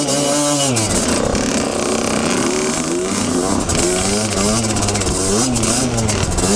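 An enduro motorcycle engine revs hard and continuously while riding on heavy, muddy ground, its pitch rising and falling in waves and staying loud and close throughout.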